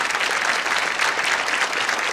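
A 1975 Lawrence Welk television studio audience breaks into dense, continuous applause for two performers, a steady wash of clapping with no speech standing out.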